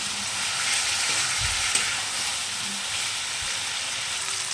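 Shrimp frying in a spice masala in a pan with taro, pumpkin and Malabar spinach curry to follow, a steady close sizzle with a few low spatula knocks and scrapes as it is stirred.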